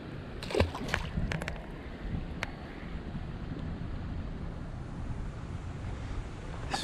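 A caught smallmouth bass is released into creek water, a quick close splash and slosh near the start, then quiet outdoor ambience with light water and wind noise.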